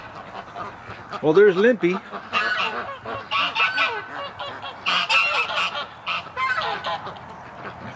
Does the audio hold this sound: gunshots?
no